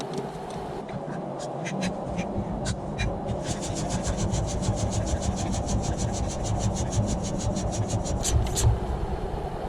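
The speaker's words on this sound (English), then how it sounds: "We're now going to use this little hand pump to see if we have any leaks." A small hand pump pressurizing the coolant system of a 3.0 TDI engine makes a steady, rhythmic rasping and squeaking of repeated strokes, close and continuous, with no one speaking.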